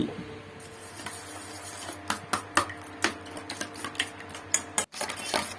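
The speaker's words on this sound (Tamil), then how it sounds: "ஒரு கப்பில் முட்டையை உடைச்சி ஊற்றி சிறிதளவு மிளகுத்தூள் போட்டு நம்ம கலந்து வச்சுருக்கிற தக்காளி அதை கொஞ்சம் போட்டு நல்லா கலக்கி" Egg mixed with pepper powder and tomato is beaten in a cup, giving a run of quick clinking taps that grow busier toward the end, close and moderately loud.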